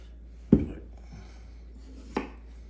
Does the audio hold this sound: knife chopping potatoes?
yes